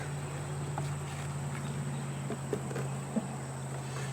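Honeybees hum steadily in an open hive, a low continuous drone close by, with a few faint clicks and knocks from frames being handled.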